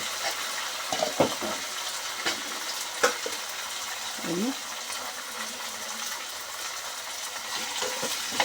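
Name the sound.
stirring frying onions, green chillies and curry leaves in pan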